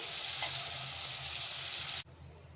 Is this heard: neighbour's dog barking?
no